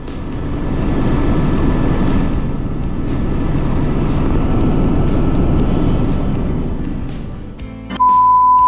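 A helicopter returning from Kedarnath fills the cabin with a steady, loud broadband roar that fades slightly near the end, where a sustained electronic beep tone sounds.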